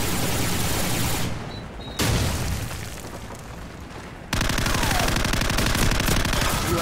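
Dense, continuous gunfire from Call of Duty 4 multiplayer, with sustained loud automatic bursts, a brief lull in the middle, then another intense stretch of rapid shots to the end.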